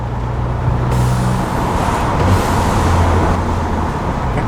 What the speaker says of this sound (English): the downshift with the blow off, oh my god